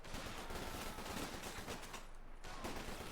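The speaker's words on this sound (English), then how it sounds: "that's a light machine gun. MD42 moving out there." An MG42 light machine gun fires in Company of Heroes 2 combat, sustained gunfire and battle noise running dense throughout, with a brief dip near the end before it resumes.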